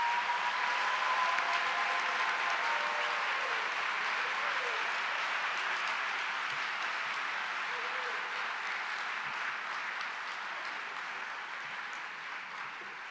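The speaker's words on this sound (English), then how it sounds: "If you could give everyone another round of applause." A large audience applauds at a dental school white coat ceremony for a DDS class, with sustained, dense clapping that fills the hall and stays loud throughout before tapering off slightly near the end.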